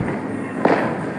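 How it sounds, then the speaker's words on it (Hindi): Fireworks bursting during a Diwali celebration, heard as a dense, rumbling wash of distant crackling and booms with one sharper pop standing out, no voices. "आतिशबाजी देखिए यहाँ से"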